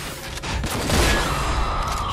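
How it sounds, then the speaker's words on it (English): A heavy shotgun blast in the video game RAGE rings out as a broad roaring boom that swells and lingers with a rumbling tail, loud and close with no speech over it. "Shotgun!"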